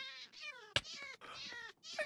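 A cat meows in the Minecraft video game, giving several soft, drawn-out, whiny meows in a row with a sharp click partway through, fairly quiet and alone.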